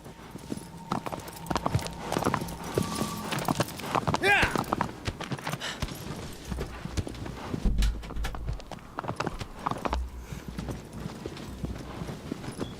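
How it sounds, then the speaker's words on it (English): Horse hooves clip-clopping at a gallop in the video game Shadow of the Colossus, a steady rapid rhythm running throughout with faint game ambience beneath. "Come on, you damn horse, let's go."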